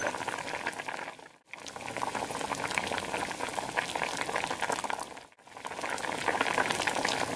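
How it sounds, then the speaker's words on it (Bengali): Fish sizzling in hot oil in a pan, fried until crisp for an outdoor Pohela Boishakh picnic, giving a steady loud crackling hiss interrupted by two brief pauses. "মাছগুলা খুব কড়কড়া করে ভাজবো"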